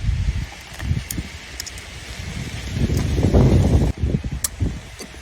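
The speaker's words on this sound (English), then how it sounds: "It's windy today." Gusty wind blows outdoors, a steady rushing roar with buffeting against the microphone that swells louder toward the middle and end, with no one speaking.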